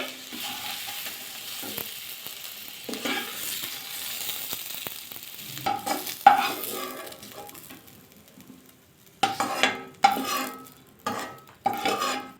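Mixed winter vegetables, including eggplant, fry in white oil in a pan while being stirred, a steady sizzle broken by scraping strokes, with louder bursts of stirring and clatter near the end.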